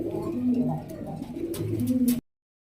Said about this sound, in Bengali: কিছু ভালো মানের কবুতর আছে দেখে দিলাম ভিডিওর মাধ্যমে